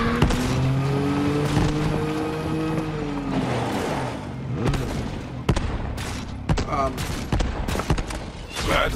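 A vehicle in the Borderlands 3 video game drives with a rising engine whine that shifts pitch, then gives way to bursts of gunfire and impacts.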